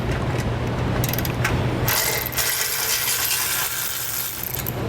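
A 16mm socket ratchet works a skid plate bolt loose on a 2021 Jeep Gladiator, giving close metallic clicking and rattling over a steady background hum with no voices.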